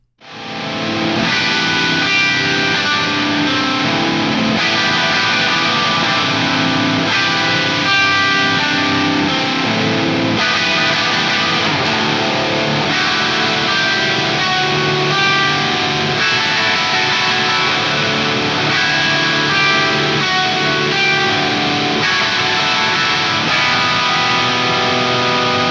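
Electric guitar played through a Rat-style distortion pedal, heavy and gritty, rings out continuously at full volume, chords and riffs with no voices.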